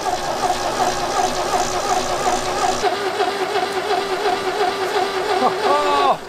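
An old car engine in a backyard-built buggy is turned over by its starter motor, giving a continuous whirring crank with a wavering pitch that shifts near the end, fairly close and loud.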